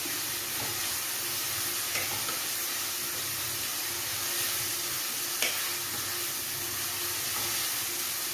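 Ginger, garlic and curry leaves sizzle in a pan of hot oil for a chicken curry, a steady close hiss with a few soft clicks from stirring.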